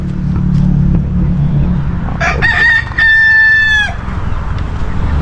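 A rooster crows once, loud and close, a harmonic call lasting about a second and a half, set against steady outdoor background noise with no talking; the bird is a Texas-breed chicken out in a grassy field.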